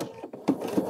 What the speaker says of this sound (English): So now you want to sew the bottom seam, and I'm going to do that right now.